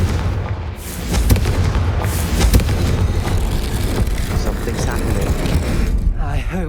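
A Confringo fire spell bursts in Hogwarts Legacy, loud booming blasts with crackling fiery debris over a dense, continuous rumble of game sound.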